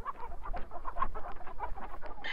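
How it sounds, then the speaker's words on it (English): Several chickens cluck in short, overlapping bursts, close and moderately loud, with a busy barnyard feel throughout. "Look at all those chickens!"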